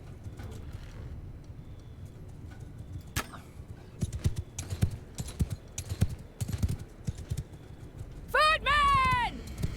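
Horse archers gallop across a battlefield in Mount and Blade Bannerlord, with scattered hoof clatter and thuds, a horse whinny near the end, and a voice speaking over the action.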